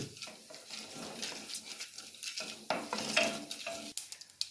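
Coconut oil sizzles steadily with soft crackling as lentils are stirred and fried in a pan, with a few light scrapes and clicks of a utensil near the end.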